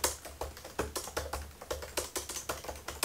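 Rapid typing on a MacBook Pro 16-inch keyboard tilted on a laptop cooler stand, a quick irregular patter of light key clicks heard up close and alone.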